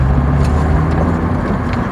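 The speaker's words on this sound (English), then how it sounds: "What a hilarious little car that is." A small car drives past close by, its engine a loud, steady rumbling drone with road noise that lingers and fades slightly toward the end.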